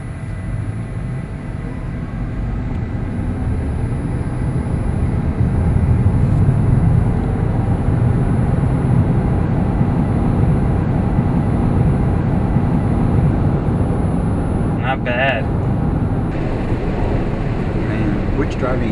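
Hybrid car pulling hard from a standstill toward 60 mph in all-electric mode, heard from inside the cabin as a steady, loud low rumble of road and wind noise that builds slightly, with no gear shifts.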